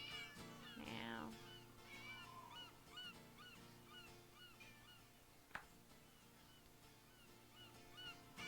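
A loud cat meow sounds early over looping video game background music, followed by fainter mewing calls and a sharp click, with no talking.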